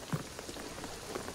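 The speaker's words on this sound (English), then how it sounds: "the rain is gonna flood it" Steady rain in Shadow of the Tomb Raider patters on a surface, a soft, even hiss with scattered droplet taps, heard on its own.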